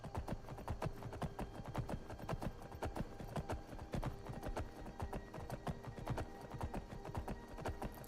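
Ridden horse in a video game, hooves clip-clopping in a steady, quick rhythm that stays fairly close and even throughout, with no talking.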